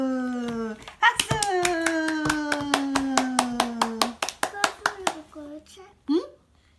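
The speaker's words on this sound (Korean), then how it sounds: "박수!" Children clap along at a birthday celebration, a quick run of sharp, evenly spaced claps close by while a voice sings a drawn-out note, ending in a few looser claps and short vocal sounds.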